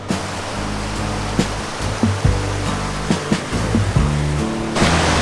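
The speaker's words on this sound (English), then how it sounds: "we've made it to Virginia Falls, which I think is the biggest one we've seen" Virginia Falls in Glacier National Park roars as a steady broadband rush of falling water, loud and continuous, with a few brief knocks and bumps near the microphone.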